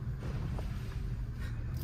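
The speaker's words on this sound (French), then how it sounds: "Moi je roule exprès dans l'eau." A Porsche Cayenne driving off-road through water on a small country track, a low rumbling wash and splash of water against the vehicle, with wind buffeting the microphone.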